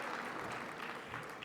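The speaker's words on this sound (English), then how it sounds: "please give a round of applause to Sean Endicott" An audience at a benefit event applauds in a steady wash of clapping, moderately distant and even, lasting a short moment without talk over it.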